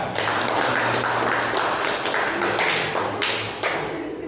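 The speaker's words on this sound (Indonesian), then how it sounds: "kasih aplaus buat kelompok 2" A classroom audience applauds a student presentation group, giving steady, loud, close clapping that keeps going for several seconds and thins slightly toward the end.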